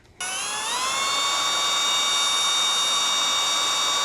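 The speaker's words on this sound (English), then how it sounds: "these are left-handed drill bits, so we're gonna put it in reverse to do the drilling" A drill runs in reverse with left-handed bits on a Craftsman mower engine, spinning up quickly and holding a loud, steady high-pitched whine with no talking.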